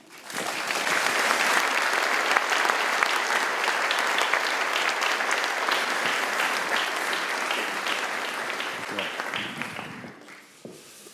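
A large crowd at a university's academic-year opening ceremony applauds the rector, a long, even wash of clapping that holds steady for about ten seconds before tapering off.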